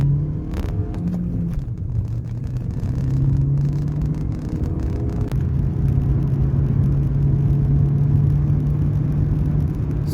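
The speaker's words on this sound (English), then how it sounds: "Now we are going to test the 100 to 0 test, braking performance." A stock Honda Civic braking from 100 to 0 km/h, heard from inside as a loud steady road rumble and engine drone that holds a constant tone throughout, with a faint click partway.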